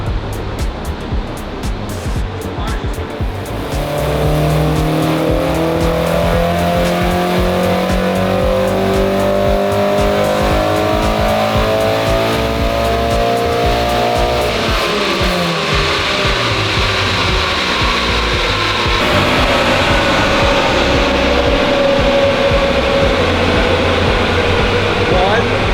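A 32-year-old NA6 Miata race car with Megasquirt runs on a dyno, its engine climbing in a long loud sweep up through the revs, then dropping off.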